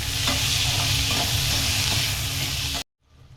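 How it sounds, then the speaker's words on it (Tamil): A large onion and a handful of small sambar onions sizzle loudly in hot oil as they sauté in a pan, a steady frying hiss with faint stirring that cuts off abruptly near the end. "ஒரு பெரிய வெங்காயம் கட் பண்ணி வச்சுருக்கேன், ஒரு கை சாம்பார் வெங்காயமும் கட் பண்ணி வச்சுருக்கேன். எடுத்து சேர்த்துக்கிறேன். நல்லா வதங்கட்டும்."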